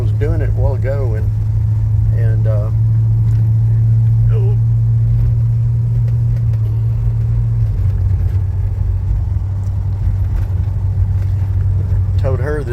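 A 1993 Toyota pickup show truck is under way, its engine and road noise forming a steady low rumble inside the cab while people talk over it for most of the stretch.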